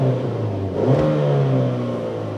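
A Chevrolet Captiva engine revs hard at full throttle up to fuel cutoff. The rising engine tone is loud and close and carries steadily for the whole stretch, with no voices over it.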